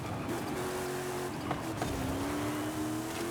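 A small race car in Forza Horizon 5 holds a steady, buzzing engine note with shifting pitch as it slides and scrubs through a corner, loud and continuous with no talk over it.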